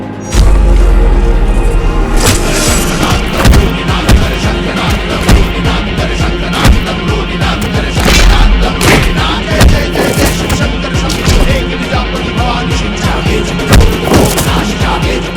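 Staged fight sound effects in a Hindi audio drama bang away loudly over music, with dense thumps, smacks and crashes in rapid irregular succession throughout.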